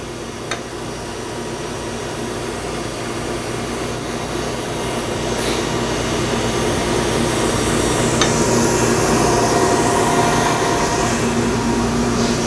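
Electric mixer whips chocolate batter made with butter and oil in a large bowl, producing a steady, loud, airy whirring that builds slightly in strength and never pauses.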